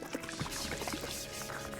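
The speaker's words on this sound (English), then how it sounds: "I pour the liquid bleach onto the mold growing on my arm." Liquid bleach pours and splashes in short gurgling, dripping bursts in Spirit Hunter: Death Mark II, fairly quiet and alone.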